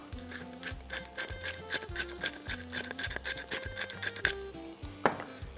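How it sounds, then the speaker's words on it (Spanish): Chicken being sautéed in olive oil in a frying pan, with a steady sizzle broken by repeated scraping and stirring knocks and clinks of utensils against the pan, fairly close and busy throughout. "en esta sartén, que es donde vamos a saltear el pollito"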